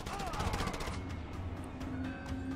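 Rapid gunfire crackles through a Just Cause 2 gameplay firefight with snipers, dense repeated shots over game music and effects for the first second, then thinning to scattered bangs under a steady background hum.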